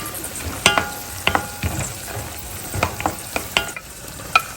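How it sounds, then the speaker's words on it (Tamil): Cashews and raisins frying in a pan for pongal, with a soft steady sizzle broken by several sharp clinks and scrapes of a stirring spoon against the pan, close and fairly quiet. "அது முந்திரி திராட்சை ஃப்ரை பண்ணிகிட்ருக்கேன் பொங்கலுக்கு."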